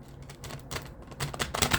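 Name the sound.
shuffling tarot cards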